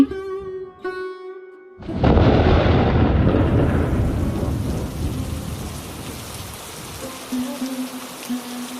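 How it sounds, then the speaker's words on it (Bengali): Heavy cartoon downpour bursts in with a loud thunder crash after a short musical tone, then a steady roar of rain slowly easing, with music returning near the end. "এই যে মুষলধারে বৃষ্টি শুরু হলো, এখন কি করি?"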